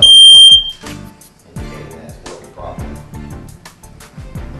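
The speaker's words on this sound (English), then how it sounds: "You should test your smoke detector monthly by pushing a button." A household smoke detector, set off with its test button, gives one loud, shrill, piercing tone at the start, then falls silent while quieter rhythmic background sound continues.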